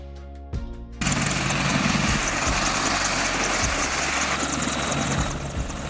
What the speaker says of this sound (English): Military helicopter.